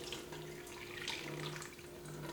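Homemade soy milk for tofu pours through a strainer, a steady close splashing flow like water running into a sink, with no voices.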